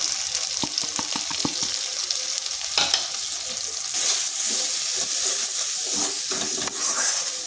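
Cumin, coriander, chilli and turmeric powders fry in a pan for a cabbage and egg dish, giving a steady close sizzle. Quick scraping stir strokes come early, then a louder, denser hiss with more scrapes.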